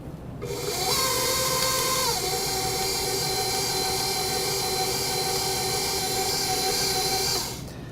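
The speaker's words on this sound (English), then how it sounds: "we're going to use the dough hook attachment, and we're going to mix the dough for about 3 to 5 minutes" Stand mixer with a dough hook kneading pizza dough: a motor spins up and holds a steady whining hum, shifting pitch once early on before running evenly, then cutting off, close and without speech.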